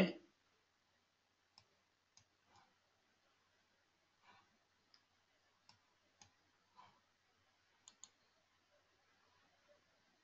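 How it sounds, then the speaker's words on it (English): Mouse clicks while working in Oracle PBCS Calculation Manager, scattered single faint clicks spaced irregularly over a quiet background. "so right click and deploy"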